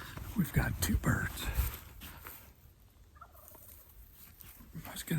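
A wild turkey gobbles from a tree during a public-land hunt in a cornfield, the gobbles faint and distant beneath close, quiet human talk and rustling footsteps.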